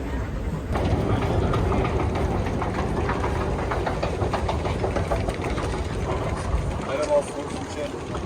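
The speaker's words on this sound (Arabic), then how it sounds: "هذا اللي شفناه القطار اللي كان كادكوي من الاربعينات" An old 1940s train in Kadıköy, Istanbul, gives off a steady, loud rumble close by, with voices talking over the mechanical noise throughout.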